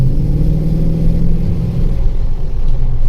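Car engine rumbling steadily at close range, a deep continuous drone with a slight rise in revs, heard on its own with no voices.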